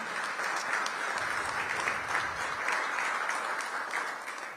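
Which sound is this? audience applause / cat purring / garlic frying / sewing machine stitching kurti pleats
audience applause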